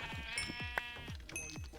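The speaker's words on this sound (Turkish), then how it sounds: "Oha burada hayvan gibi koyun çıkmış maşallah" Sheep in the Minecraft game bleat several times in quick succession, the short wavering cries overlapping at a low, steady level with no talking.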